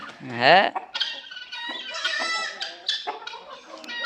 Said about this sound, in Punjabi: ਇੱਧਰ ਥੋੜ੍ਹੇ ਜਿਹੇ ਚੂਹੇ ਛੱਡੇ ਨੇ ਜਿਹੜੇ ਐਸ ਕੇਜ ਦੇ ਵਿੱਚ ਸੀ